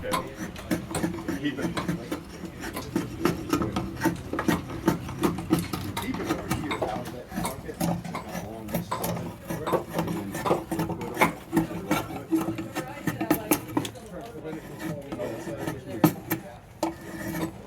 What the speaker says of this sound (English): Here, my husband is taking a class on woodworking